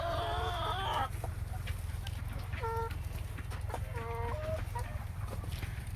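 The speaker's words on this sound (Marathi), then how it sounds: "अजून इकडे अंडे देणं चालूच आहेत कोंबड्यांचे." Hens clucking inside a poultry shed where the birds are laying eggs near feeders, with a loud burst of calls at first and then a few shorter, scattered clucks over a steady low hum of the shed.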